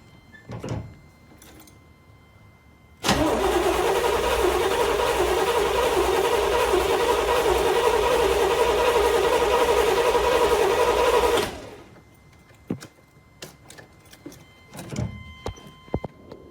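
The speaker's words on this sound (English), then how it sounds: "All right, we'll crank it again just to let fuel get up there." Starter cranking the engine of a 1979 Corvette with an L82 V8 and a freshly rebuilt carburetor: a loud, steady whirring crank holds for about eight seconds without firing, then stops abruptly, followed by scattered faint clicks and knocks.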